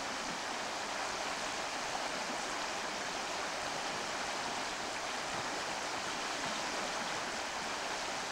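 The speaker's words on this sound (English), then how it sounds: "Look at the waterfalls up there." A mountain stream and waterfalls in Sitka, Alaska, swollen after rain, produce a steady broadband rushing roar that stays constant and fairly distant throughout.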